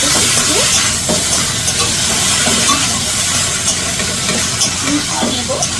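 Slit green chillies being stirred into spices in a hot frying pan for a shing fish curry, giving a steady loud sizzle and hiss with soft scraping strokes throughout.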